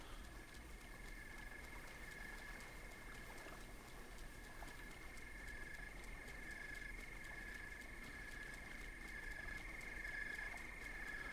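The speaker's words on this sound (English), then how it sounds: "Hot-footed frog." Hot-footed frog croaking in The Legend of Zelda: Breath of the Wild, a steady game ambience with a sustained high tone and a low continuous wash, with no distinct croaks standing out.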